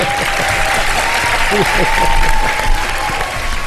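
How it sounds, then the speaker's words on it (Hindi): Studio audience applause on a live television show, dense clapping filling the room while someone speaks over it. "उनके लिए बहुत सारी तालियां"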